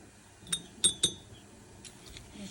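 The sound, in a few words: spoon clinking while adding sugar to tea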